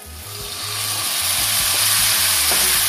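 Chickpeas hit a hot pan and sauté, a strong close sizzle that builds and stays loud, with soft scraping stirs breaking in now and then.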